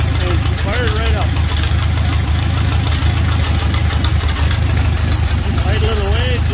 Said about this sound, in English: I put a new set of Champion plugs in there and she fired right up.